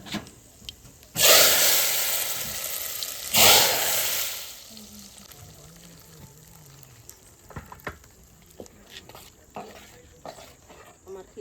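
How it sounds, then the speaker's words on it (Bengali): Dried chillies, bay leaf and panch phoron hit hot oil in a heated kadai with two loud bursts of sizzle, then a quieter crackle with scattered pops and faint clinks. "এবার আমি তেল দিয়ে দেবো শুকনো লঙ্কা তেজপাতা আর পাঁচ ফোড়ন"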